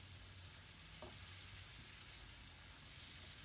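Chicken and bitter gourd are stirred in a frying pan, a steady sizzle and hiss filling the whole stretch, with a soft scrape or clink of the utensil near the start.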